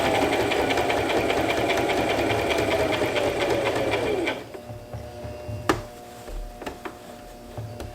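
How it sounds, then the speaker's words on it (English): A sewing machine runs steadily, stitching and reinforcing a seam on a tote bag, with a whirring drone that winds down and stops, followed by a few faint clicks and handling sounds. "Now on this seam, you will want to back up and reinforce it a couple of stitches and then go forward."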